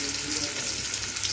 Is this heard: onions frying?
yes